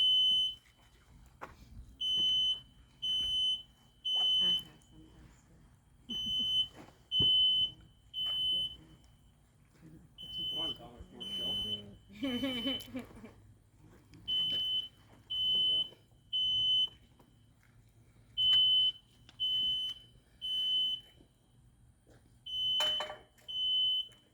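Smoke detector chirping in short, regular high-pitched beeps repeated across the span in pairs and groups, with a brief burst of voices and room noise midway.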